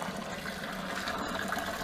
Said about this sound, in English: wait for the kettle to boil, and then I'll pour the hot water to dissolve the dextrose